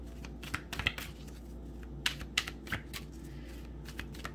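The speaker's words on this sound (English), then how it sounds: "One more shuffle." Tarot cards are shuffled close by in two quick bursts of crisp riffling, separated by a brief quiet pause.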